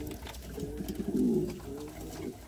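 Pigeons coo in a loft during moulting season, including a Valencian crossbreed pigeon; several low, throaty coos swell and overlap steadily at close range with no talking.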